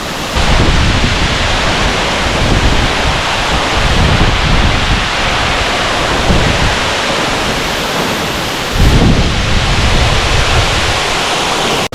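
A loud, continuous roar of a waterfall in Tahiti, French Polynesia, water rushing and falling broad and steady throughout with slight surges, heard close by and alone.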